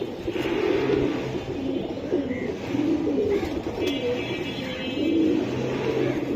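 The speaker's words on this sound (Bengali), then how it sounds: "তোতা ফেজের পুরানো জাতের একটা পেয়ার। এই দেখুন কবুতর দুটো।" An old-breed Tota Fez pigeon pair coos close by in repeated soft, throaty rolls, with a faint car passing far off in the background.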